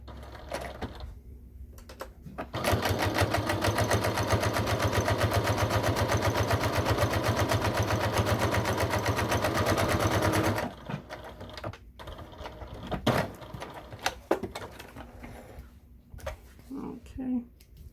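Sewing machine stitching 1/8-inch seams across fabric tea bag packet pockets, a fast rhythmic chatter running about eight seconds, close and steady, with a person talking before and after the run.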